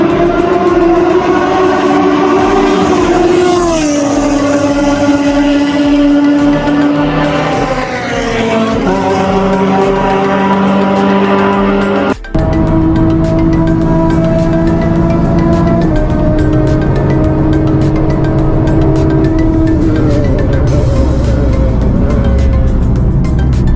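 A tuned Renault Megane on a race track in the UAE, its engine loud and close as it climbs through gears with rising and falling tone, a sharp shift break midway, then pulling hard again.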